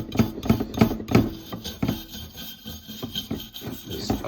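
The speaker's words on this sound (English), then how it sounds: "I'm just gently brushing it, and all that will come off nice and easy." A Kamado Joe grill chimney being gently brushed clean, with short close scraping strokes in a quick irregular rhythm, loudest at the start and then softer, uneven rubbing.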